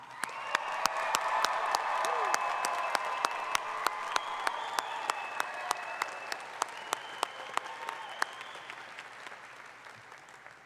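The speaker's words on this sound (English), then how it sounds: "Everyone, please join me in applauding American College of Education's graduating class of" A doctoral hooding ceremony audience applauds the graduating class, a broad wash of clapping with distinct sharp claps standing out near the mic, under a murmur of crowd voices and cheers.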